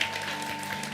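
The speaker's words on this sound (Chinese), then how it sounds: "我们先为4楼新朋友热烈掌声欢迎4楼的" A church congregation at a Christmas service clapping to welcome new visitors, a moderately loud, steady patter of many hands over a faint steady hum.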